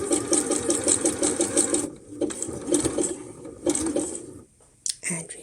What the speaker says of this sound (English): now we're just going to zigzag it on the edge and then another zigzag over there